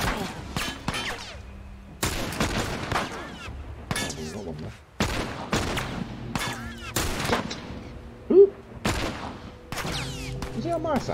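Video game gunfire from The Last of Us Remastered, with rapid bursts of sharp shots and heavy blasts going off in clusters, loud and close, with brief gaps between volleys and some faint voices.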